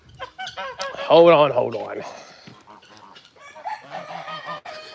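Birds at an animal sanctuary honk and cluck loudly nearby, a goose-like call standing out among fowl chatter, with a person speaking briefly over them.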